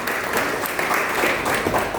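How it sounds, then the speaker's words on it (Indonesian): Audience at an official gathering with the Ministry of Home Affairs applauds in a steady, dense wash of clapping that stays loud and even throughout, with no pause. "Izin Bapak Ibu boleh berikan tepuk tangan"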